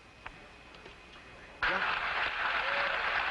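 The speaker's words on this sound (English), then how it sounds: "An extremely loud applause here in Mission Control." Sudden loud applause and cheering erupting in NASA Mission Control after the Apollo 13 splashdown, breaking in after a quiet stretch of radio hiss and continuing steadily.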